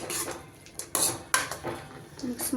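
A spoon stirring tomato gojju in a metal pan, producing several sharp clinks and scrapes against the pan at an uneven pace, close and clear with no talking.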